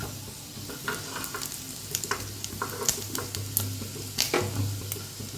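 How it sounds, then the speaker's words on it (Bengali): Chicken sausages sizzle in a frying pan with a soft, constant hiss, dotted with small pops and light scrapes of a utensil against the pan, fairly quiet and close, with no voices. "আমার সসেজগুলো ফ্রাই হয়ে গেছে"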